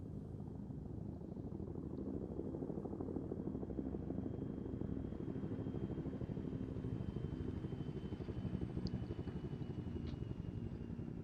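Steady, droning rotor and engine hum of a helicopter flying in a military video game, continuous and fairly faint, with no pauses.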